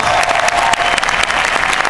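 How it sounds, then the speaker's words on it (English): A live audience applauds a band at a Las Vegas singing-competition show, the clapping loud, dense and continuous throughout. "Give them a big round of applause"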